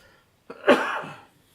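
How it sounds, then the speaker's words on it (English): A single throat-driven cough bursts out sharply and fairly close, trailing off over about a second, alone against near silence with no talk around it. "And a cough."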